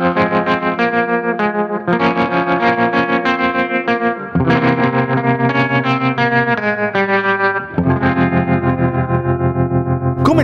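An electric guitar on its bridge pickup, played through a TC Electronic Plethora X5 multi-effects board with distortion and chorus, strums loud sustained chords in steady phrases with a vintage sixties tone, no voices over it.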